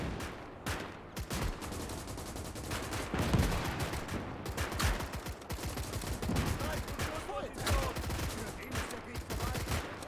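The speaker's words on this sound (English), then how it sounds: "Who's shooting me?" Rapid gunfire in a WWII battle in Gates of Hell: Ostfront, dense bursts of rifle and machine-gun shots crackling continuously at varied distances, with someone talking over the shooting.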